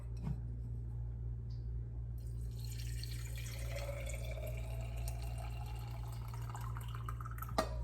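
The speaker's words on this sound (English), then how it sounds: "So what you need next is water, hot water." Hot water trickles and drips into a container for a homemade clove and cinnamon mouthwash, quiet and close, with a steady low hum underneath and a small clink near the end.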